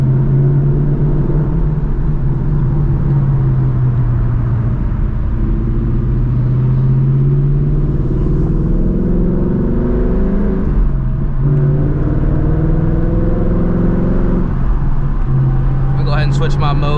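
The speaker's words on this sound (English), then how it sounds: "I'm gonna drive the car around for like maybe like a couple minutes" A 2024 Mustang GT running on E85 rumbles loudly from the cabin as it drives, its engine tone climbing and falling through several rev pulls over a continuous low drone.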